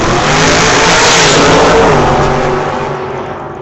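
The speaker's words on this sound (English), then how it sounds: "Driving a 1971 Chevelle. 632 cubic inch big block Chevrolet with a couple of stages of nitrous." A 1971 Chevelle drag car with a 632 cubic inch big block Chevrolet and nitrous roars loudly at full throttle on a drag strip. It stays close and powerful, then fades slightly as the car pulls away.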